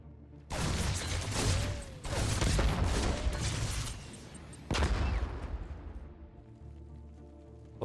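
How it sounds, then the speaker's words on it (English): Reaper units firing in a StarCraft 2 Zerg versus Terran match, a dense rattling burst of game gunfire starting abruptly, continuing for several seconds, then a second sharp volley before trailing off into quieter battle ambience. "Reaper shots coming through."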